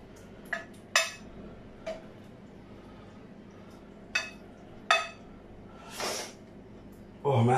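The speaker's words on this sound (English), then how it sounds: "Oh man, I'm sweating and I'm sniffling from those onions." Sniffling from someone cutting onions while cooking: several short, sharp sniffs and breaths at irregular intervals over quiet room noise, close to the microphone, with a louder kitchen clatter at the end.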